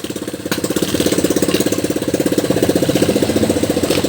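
A very old small engine chugs steadily nearby with a fast, even knocking rhythm, loud and continuous, its choke fully open.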